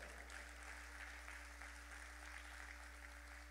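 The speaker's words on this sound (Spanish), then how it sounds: "Den un aplauso al Señor." A church congregation applauds in a steady wash of clapping, heard at a distance and fairly faint over a constant low electrical hum.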